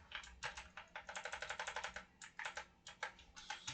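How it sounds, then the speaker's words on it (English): Quiet, close bursts of rapid clicking keystrokes on a computer keyboard, typed in short runs separated by brief pauses. "you can also still type it like this"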